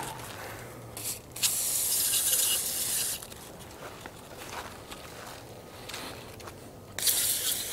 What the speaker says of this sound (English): Spray it on there nice and tight, let it dry off for a little bit